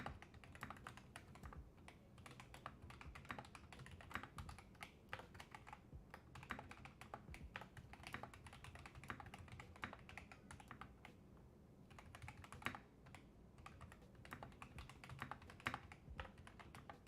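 Steady, fast typing on a mechanical keyboard fitted with MSA profile keycaps, a continuous patter of close, crisp key clicks with no voices.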